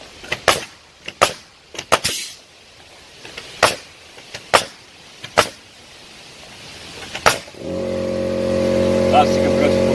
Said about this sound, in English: That's the compressor coming on now.